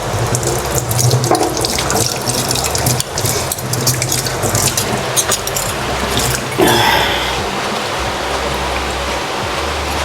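Tap water runs steadily into a sink while a plate is washed, a close, continuous splashing hiss with a brief surge partway through and no talking.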